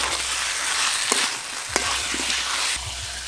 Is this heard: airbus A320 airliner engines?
no